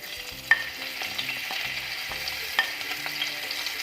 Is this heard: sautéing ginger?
yes